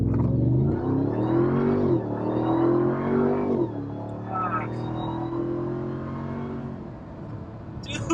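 A Ram TRX pickup truck engine revs hard in sport mode and climbs in pitch as it accelerates, then shifts and settles into a lower steady drone.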